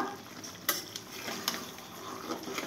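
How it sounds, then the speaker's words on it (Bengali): Mutton is sautéed and stirred in a pot for mutton kosha, with a soft sizzle under a few sharp spoon clinks and scrapes against the pot. "এখন কষানো হচ্ছে মাটন"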